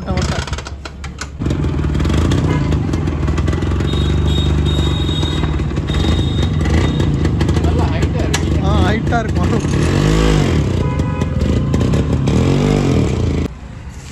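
Scooter engine droning steadily on a long solo ride across India, loud and close with a wind roar over it, starting up after a quiet opening and cutting off near the end, while someone talks briefly.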